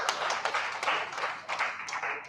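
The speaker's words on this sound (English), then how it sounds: "Let's give a round of applause again to ES." A crowd claps in a round of applause for a speaker at a gathering on voting access, a dense patter of hands with a few louder individual claps, steady and fairly close.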